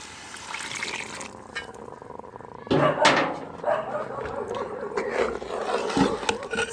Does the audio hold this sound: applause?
no